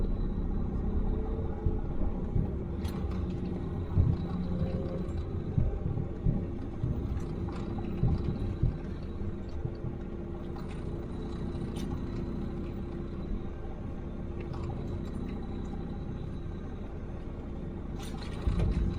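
A semi truck engine rumbles low and steady while the truck drives slowly and turns in a tight lot, with occasional clanks and knocks over the continuous drone.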